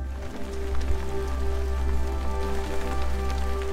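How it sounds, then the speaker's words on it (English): Light summer drizzle falling on a forest hiking trail in Vallée Bras-du-Nord, a steady soft patter of raindrops on surfaces throughout, close and even, with low outdoor rumble beneath. "Just a little summer drizzle, which is cold as hell."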